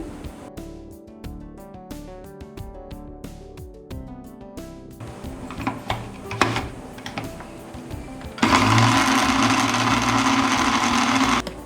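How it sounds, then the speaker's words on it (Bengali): A blender whips oil into homemade mayonnaise, breaking into a loud, steady whirring drone for the last few seconds after a quieter stretch with other background sound. "এক মিনিট ব্লেন্ড করার পর আমি ঢাকনা খুলে দিচ্ছি"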